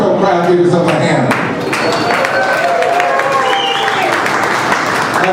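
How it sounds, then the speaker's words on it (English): Comedy club audience applauding and cheering at a comedy finals show, a dense, steady wash of clapping with crowd voices mixed in, loud and close throughout. "What a wonderful crowd. Give yourself a hand."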